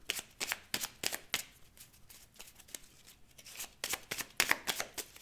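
Oracle cards handled and shuffled by hand during a French card reading, a close series of quick papery riffles and slides in bursts, with no talk over them.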